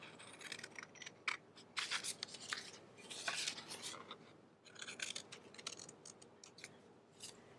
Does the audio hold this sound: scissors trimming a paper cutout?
yes